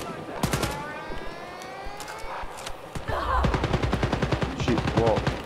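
Video game gunfire in Wolfenstein: Youngblood co-op play: scattered shots, then a fast, sustained automatic burst in the second half, heard under players talking.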